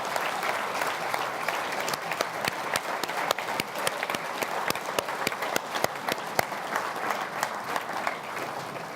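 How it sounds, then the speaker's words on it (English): A large gala-dinner audience at an awards ceremony applauds the shortlisted nominees, sustained crisp clapping from many hands filling the hall for about nine seconds, moderately loud with no speech on top. "let's give them a big round of applause"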